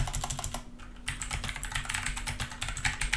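Rapid clicking of keys as numbers are typed on a computer keyboard, close and fairly crisp, in quick irregular bursts with a short pause, no voices.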